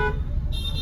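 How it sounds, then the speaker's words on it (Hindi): Car horn sounding during a driving lesson, a brief, close tonal honk over the low hum of the moving car. "हॉर्न"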